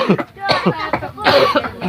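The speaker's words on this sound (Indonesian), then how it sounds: "Loh, batuk pun." A few harsh, close coughs in quick succession, loud and abrupt, with a throat-clearing quality.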